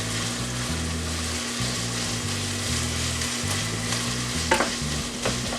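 Onions and rotini casserole ingredients frying in a pan with a steady, close sizzle while a spoon stirs them in irregular scraping strokes, with a couple of sharper clinks near the end and no talking.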